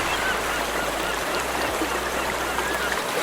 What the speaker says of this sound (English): Notice I've put in a seagull sound effect.